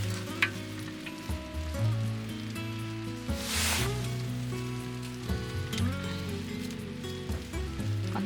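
Water with dandan noodle sauce stirred in comes to a boil in a small pot at a snowy winter campsite, giving a steady close sizzling, bubbling hiss that runs the whole time over a music bed.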